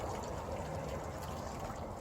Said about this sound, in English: we're just going to fill the tray with water